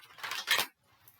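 A deck of tarot cards shuffled up close in one short, crisp riffling burst. It fades into a quieter patter of cards settling, and no one speaks.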